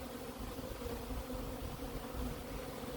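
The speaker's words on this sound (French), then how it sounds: "Énormément d'abeilles qui sortent là." Many bees pour out of a busy hive at a French apiary, a dense continuous buzzing swarm, close and loud, with no voices.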